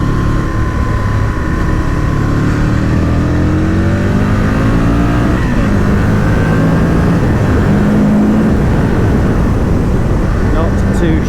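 A 2002 Aprilia RSV Mille R motorcycle accelerates hard, its loud engine note climbing steadily in pitch through the gears over constant wind rush, heard close and continuous with no talk.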